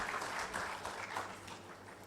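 An audience at an International Association of Women Judges conference claps steadily in a sustained round of applause, moderately distant, with no clear speech.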